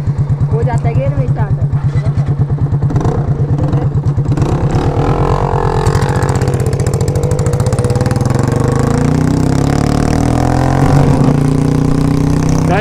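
A KTM RC 200 motorcycle engine runs close by, a steady pulsing idle that rises in pitch toward the end as the bike moves off, with people talking over it throughout.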